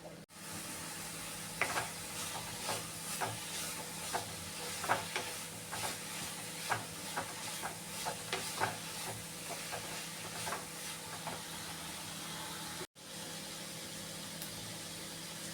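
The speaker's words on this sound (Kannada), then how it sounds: "ಈಗ ನಾನು ಇದನ್ನು ಸಹ ಫ್ರೈ ಆಗ್ತಾ ಇರೋ ಜೊತೆ ಹಾಕಿ ಹಸಿ ವಾಸ ಹಸಿ ವಾಸನೆ ಹೋಗೋವರೆಗೂ ಚೆನ್ನಾಗಿ ಫ್ರೈ ಮಾಡ್ತೀನಿ" Masala paste and vegetables fry in a pan with a constant low sizzle and hiss. Spatula scrapes and taps come in an uneven rhythm, fairly close and moderately loud, with one brief dropout near the end.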